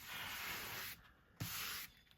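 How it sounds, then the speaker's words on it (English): A sanding block rubbed firmly across a magazine page for frottage makes two close, dry scratchy strokes with a brief pause between them. "you take your sanding block and you give it a nice press"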